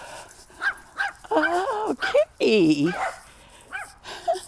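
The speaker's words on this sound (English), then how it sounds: "They barking." Dogs bark and yip in a series of sharp, close bursts, some stretched into whiny howls, spaced unevenly across the clip while a person speaks briefly between them.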